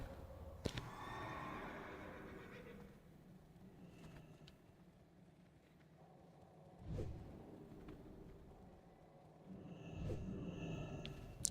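A horse neighs in the World of Warcraft Classic game, a faint whinny among quiet game ambience, with a brief sharp sound near the start and soft swells later, no talking.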